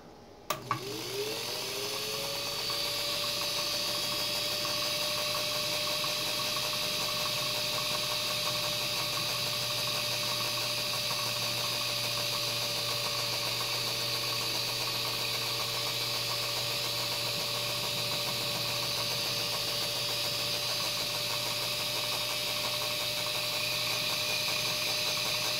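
A Dictaphone S-10 shaver cuts a wax dictation cylinder with a steady motor whine and a continuous high shaving hiss, starting with a short clunk and a rising spin-up, then holding evenly throughout.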